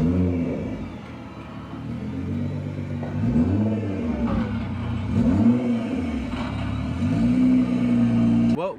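A Toyota Prius with a swapped-in GTR engine revs hard through its exhaust, loud repeated rising and falling blips of engine roar close by, with a voice briefly heard.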